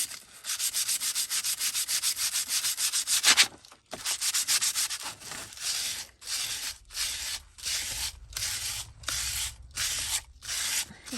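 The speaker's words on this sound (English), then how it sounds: "and then sanding into our image" Sandpaper rubbed over a printed junk mail image, first a steady fast scrubbing for a few seconds, then a rhythmic series of separate back-and-forth strokes, close and crisp.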